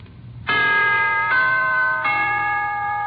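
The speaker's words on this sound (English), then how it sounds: "here is a holiday wish from the NBC Chimes" Three bright, sustained NBC chime tones ring out one after another on an old-time radio broadcast, each note striking clearly and lingering as the next begins.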